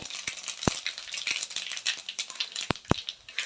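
Crackling, popping bursts of fennel and cumin seeds frying in hot oil, with sharp sporadic pops over a steady sizzle, close by.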